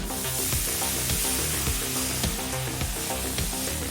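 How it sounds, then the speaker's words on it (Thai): Food frying in hot oil in a pan, a loud dense continuous sizzle with crackling pops, close up and without talking. "เพอร์เฟกพร้อมทอดแล้ว"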